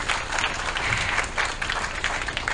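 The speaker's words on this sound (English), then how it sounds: "Please give them a round of applause." An audience at a Women in Government panel in Johannesburg gives the panelists a round of applause: loud, dense, sustained clapping from many people, with a faint crowd murmur.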